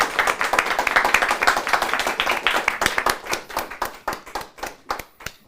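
An audience claps for the event's presenters, a dense patter of hands that thins into sparser, separate claps as the applause fades out over several seconds.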